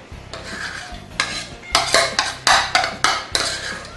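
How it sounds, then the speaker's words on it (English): Butter and sugar being mixed by hand in a bowl for a pound cake, with repeated clattering scrapes of a utensil against the bowl in a steady, uneven rhythm, close and fairly loud. "we've got to mix the butter and sugar until creamy"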